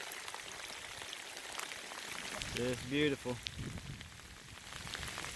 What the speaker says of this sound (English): Coming a good shower right here